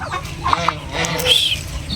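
Chickens clucking close by as they start eating newly scattered feed, short sharp clucks and a squawk over a steady background of farmyard noise.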